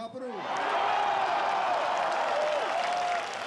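A large crowd of about 20,000 applauds at Robert Kocharyan's final-day campaign rally in Yerevan, a sustained broad wash of clapping and cheering with voices carrying through it.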